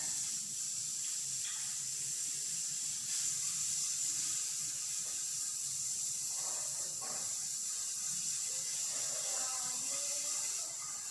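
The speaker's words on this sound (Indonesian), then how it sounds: "Sekarang kita tumis bawang putih dan bawang bombaynya." Garlic and onion sizzle in a hot pan, a steady broad hiss of frying that holds evenly throughout with faint clinks and stirring noises underneath, no talking.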